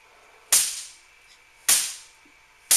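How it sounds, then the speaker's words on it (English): A Van de Graaff generator gives off three sharp, loud crackling snaps from corona discharge, each followed by a fading hiss, spaced about a second apart over quiet background. "The crackling sound you hear is also due to corona discharge."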